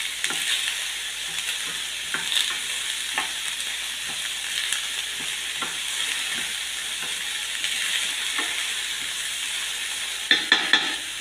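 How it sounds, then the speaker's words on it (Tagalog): French beans frying and sizzling in a pan, with a steady hiss throughout and scattered soft scrapes of a utensil stirring them, plus a few sharper clinks near the end. "Haluin natin"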